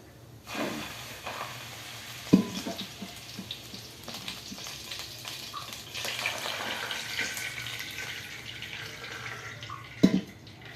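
Water pours steadily onto rice in a soft, continuous hiss with a couple of sharp clinks, close and fairly quiet, no voices.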